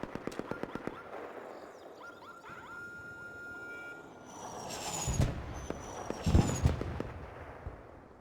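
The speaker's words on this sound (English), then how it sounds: "The sounds of gunfire off in the distance, the whistle of flares going off" Distant video game gunfire from Arc Raiders pops and cracks in a quick burst, followed by whistling, rushing flare sounds and a couple of heavier booms.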